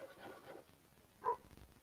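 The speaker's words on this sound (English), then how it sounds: "He's barking at something now." A single short, muffled dog bark sounds at a distance after some faint rustling, quiet and brief with no talking.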